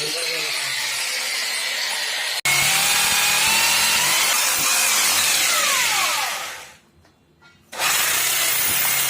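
A core bit grinding through tiles during a wall-hung toilet installation in a bathroom, a loud continuous whining cut that stops briefly near the end and then restarts.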